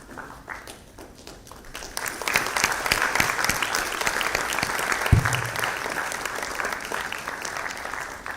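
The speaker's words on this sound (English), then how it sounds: "Ladies and gentlemen, please keep the applause." A large audience at a women leaders in automation and data science awards ceremony claps, the applause starting moderate and swelling louder after a couple of seconds into a steady, dense roar of hands, with a brief low thump midway.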